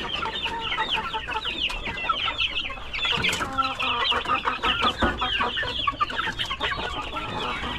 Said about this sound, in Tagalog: Gutom na ang ating mga sisiw.